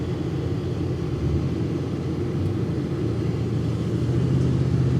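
A slammed dually pickup with a 454 engine rolls along under load, giving a steady, low broadband rumble that holds constant throughout with a slight rise in tone near the end.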